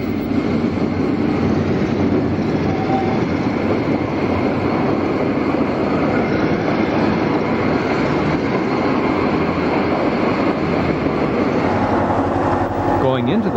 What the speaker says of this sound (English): the new power for the train approaches